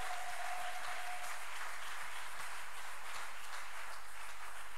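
A church congregation applauding, a sustained wash of clapping from a large crowd at moderate distance, steady for the whole stretch.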